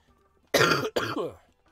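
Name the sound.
cough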